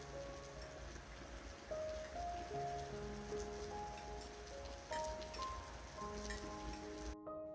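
Rain falls steadily on surfaces in Japan, a soft continuous patter with light drips, layered under gentle melodic tones throughout.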